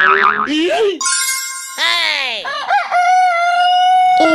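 Roosters raised from backyard chickens crow in a village yard, several long, loud, close calls following one another with rising and falling pitch and some clucking between them.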